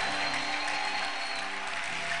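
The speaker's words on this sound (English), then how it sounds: "Clap your hands for the Lord." A church congregation claps together in a dense, continuous burst of applause, loud and sustained throughout.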